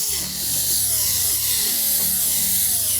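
A power driver whirs steadily, close and loud, backing out 1/4-inch hex head screws from the inner shield of a GE range during a door glass repair, with no voices.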